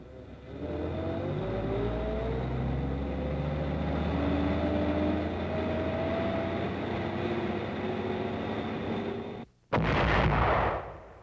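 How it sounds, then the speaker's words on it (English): A 155 self-propelled gun fires point blank at an observation post in Frentz, Germany, in 1944: a steady droning rumble runs for several seconds, drops away, then one loud, booming blast bursts out near the end. "A 155 self-propelled gun is fired point blank at an observation post inside Frentz, Germany, northeast of Eschweiler."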